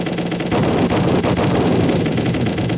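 Dense, continuous shoot-'em-up arcade gunfire and explosions roar with constant intensity, a busy electronic barrage without pauses.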